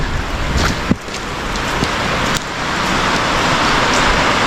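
Heavy rain pours down steadily over a muddy farmyard with standing water, a loud continuous hiss of drops that swells slightly toward the end, with a couple of sharp knocks early on.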